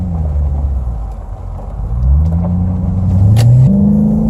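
A 2012 Hyundai Genesis R Spec with an 8-speed automatic drives on back roads, its steady low engine rumble rising as it accelerates through a couple of upshifts, heard from inside without talk.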